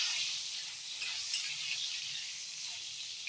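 Salted stuffed chillies frying in a pan as they are stirred, a steady soft sizzling hiss with faint scraping underneath, fairly quiet and continuous.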